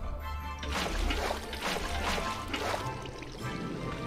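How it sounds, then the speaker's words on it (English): Water pours down a waterfall in Minecraft, a steady splashing rush that carries on throughout at moderate loudness, with faint voices underneath. "Oh, it's a waterfall."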